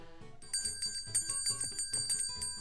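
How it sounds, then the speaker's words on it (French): A small bell rings in a rapid, steady series of bright metallic strikes, close and clear, with no one talking over it. "Je sonne la cloche, c'est bon?"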